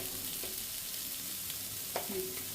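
Chili powder and ground spice paste frying in a pan for a stuffed chili dish: a steady, close sizzling hiss with occasional scrapes and stirring clinks over it.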